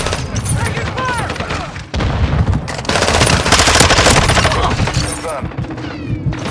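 Rapid gunfire rattles through a Shipment map match in a video game, with dense bursts of automatic fire and sharp shots piling up loudly and continuously, and game voice chatter mixed in.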